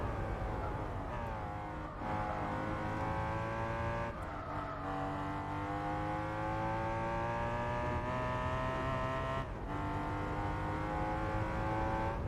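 BMW M3 engine lapping the Nürburgring in Gran Turismo 4, a loud sustained drone with rising pitch through the gears and brief dips at each upshift.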